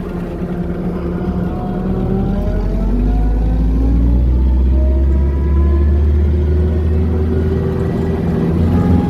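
A packed Jeep on the move, its engine giving a steady low rumble that rises and shifts in pitch as it drives, loud and close throughout with no talk.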